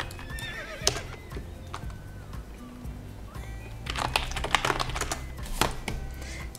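Horses in the Star Stable video game whinny and clip-clop, with a couple of near neighs early and a busier burst of hoofbeats and whinnies toward the end over a steady background.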